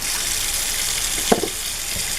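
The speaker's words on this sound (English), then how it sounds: "Rinse those out and you are all set." Water runs steadily from a kitchen tap as scrubbing sponges are rinsed, a continuous close hiss with a couple of brief splashes or knocks near the middle and no talking.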